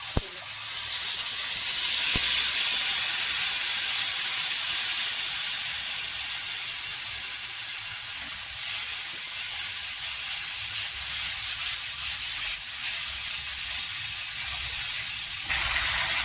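Tomato puree hits hot oil seasoned with asafoetida in a pan, releasing a loud, steady sizzle and hiss that continues close and unbroken throughout.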